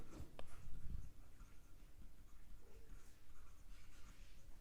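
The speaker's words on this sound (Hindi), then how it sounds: "ये सेम लिख रहे हैं यहां पे" Pen or pencil scratching across paper while a math solution for a differential equations exercise is written out, a soft continuous rasp with brief strokes, faint and close, with no talk.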